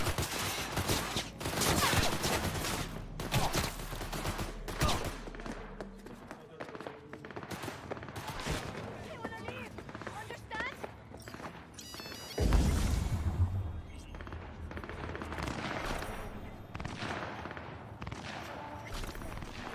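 Gunfire in the video game Cyberpunk 2077, dense rapid bursts of automatic shots and booms rattling through a long street firefight, loud and sustained with a heavy blast partway through.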